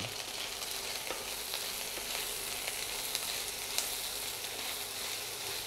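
Small chopped onions frying in a pan for Marwari lauki gatte sabzi, a steady close hiss and crackle of sizzling oil with occasional stirring scrapes, continuous and even throughout.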